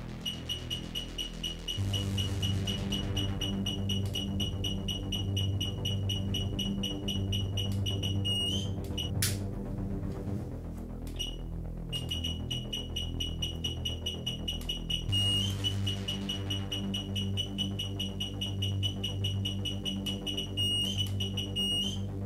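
A K2 EMF meter detecting a strong electromagnetic field emits a rapid, piercing beeping alarm in sustained bursts, cutting out briefly before resuming, over a low background hum.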